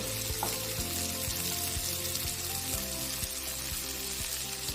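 Onions and freshly added tomatoes frying in a pan for a spicy tangra fish curry, a steady close sizzle with soft periodic stirring thumps running throughout.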